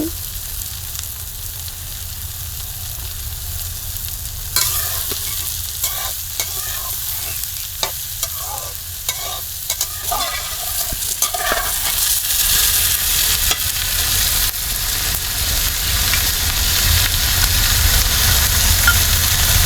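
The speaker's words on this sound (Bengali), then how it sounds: "পেঁয়াজ কুচি আমি সম্পূর্ণ ফ্রাই দিয়ে নিচ্ছি" Chopped onions fry hard in a pan for fish curry, a continuous loud hiss with a burst of rapid stirring and scraping in the middle before the sizzle swells and settles, no voices.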